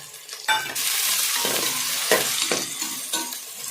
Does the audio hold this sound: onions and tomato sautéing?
yes